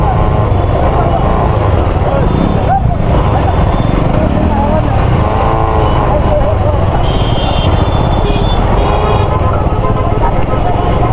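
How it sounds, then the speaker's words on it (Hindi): Heavy, congested traffic at the Raxaul crossing on the India–Nepal border, a continuous loud wash of engines and road noise with passing motorcycles and cars, close by and steady throughout, with people talking over it. "बहुत ज़्यादा जाम है यहाँ पे"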